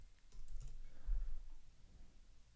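Someone types on a computer keyboard in a short burst of soft, quiet keystrokes, heard faintly close by with no talking.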